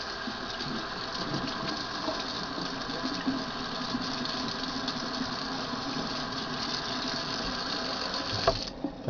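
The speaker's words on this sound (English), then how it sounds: "you can probably hear the water running" Tap water runs steadily and evenly over stainless steel knives, a continuous close rushing stream, with a brief clatter near the end.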